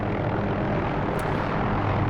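OH-6A helicopter flying in the DCS combat flight simulator, a steady, dense engine and rotor roar that stays constant and loud throughout, with no voices.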